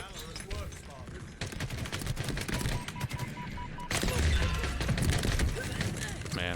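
Rapid bursts of automatic gunfire from Halo Infinite Big Team Battle, dense and continuous over game effects, with a heavier stretch of shooting and impacts in the second half and some voice present.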